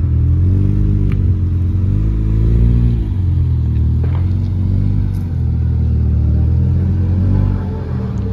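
A Honda Civic Type R engine revving loud and close, a sustained rumbling drone that rises and falls in pitch through several throttle swells.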